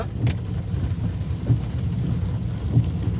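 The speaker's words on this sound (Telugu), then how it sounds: "వర్షం వస్తూనే ఉంది నాన్ స్టాప్గా" Steady heavy rain in Hyderabad with a low rumbling wash, punctuated by a few soft thuds and a passing splash.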